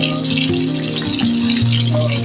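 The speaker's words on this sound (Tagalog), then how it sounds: "At ayan, may pritong isda dito si Mami" Fish frying in a home kitchen pan in a rural province, a loud, steady crackling sizzle with a faint hum running underneath, no voices.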